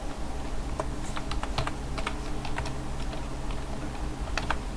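Quick bursts of clicking keystrokes as a file name is typed on a computer keyboard in Linux Mint, close and crisp over a steady background hiss, with short irregular pauses and no voices.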